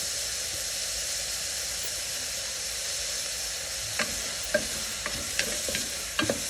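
Onions and curry leaves fry with a pinch of salt in a pan for a mutton jackfruit korma, producing a continuous close sizzle with scattered sharp scraping clicks from stirring toward the end.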